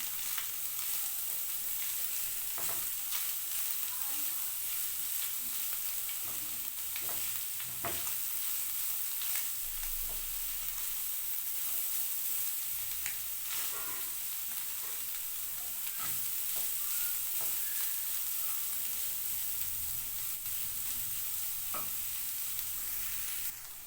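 Carrots softening in a hot pan give a soft, even sizzle that runs unbroken for over twenty seconds, with light stirring clicks now and then, fairly quiet and with no one talking.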